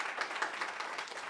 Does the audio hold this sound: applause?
yes